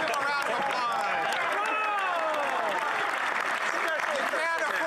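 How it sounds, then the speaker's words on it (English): A parliament chamber fills with applause and clapping mixed with loud overlapping voices and shouts from a crowd, continuous throughout. "Come on, give him a round of applause."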